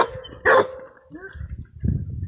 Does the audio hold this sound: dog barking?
yes